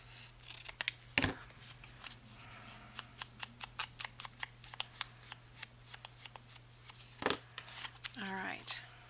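Scissors snip through paper while trimming a folio for a junk journal, a rapid series of short, crisp cuts and rustles close by, with a soft voice talking in the background.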